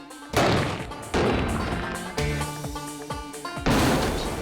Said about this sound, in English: Now that's what I expected from those patches. That's great. That is an explosion.